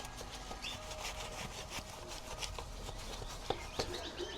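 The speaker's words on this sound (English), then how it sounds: "So I'll scrub in between all of the spokes." Car wheel spokes scrubbed with a brush and cleaner: faint repeated rubbing strokes in a quick rhythm, close up, with no speech.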